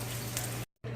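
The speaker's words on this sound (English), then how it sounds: "So we're going to cook some bacon." Bacon sizzles in a pan with a steady, dense crackling hiss and a low hum beneath, cut by a brief silent gap before resuming, with no talking.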